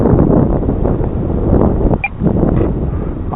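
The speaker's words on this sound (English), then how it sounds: "This wind was a little much" Heavy wind buffets the microphone at an RC model airfield as a Dynam FW-190 plane lands. The rumble is loud, dense and continuous, with a faint brief tone partway through.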